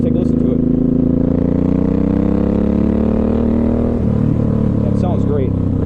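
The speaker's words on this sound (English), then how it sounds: "you can rev the throttle a little bit and scare away stuff" A 2007 Suzuki M109R cruiser motorcycle with an aftermarket exhaust idles with a deep, throaty rumble, then the throttle is blipped near the end, raising the pitch briefly; loud and close.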